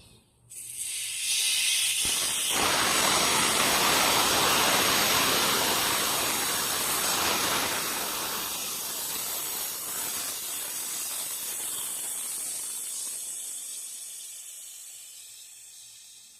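Compressed air hisses loudly and steadily from a Viair 400P onboard air system on a 1989 Jeep XJ, a strong broadband rush that starts abruptly and slowly tapers over about fourteen seconds, with no talking.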